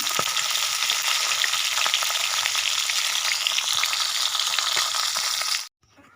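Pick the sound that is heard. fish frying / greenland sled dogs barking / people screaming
fish frying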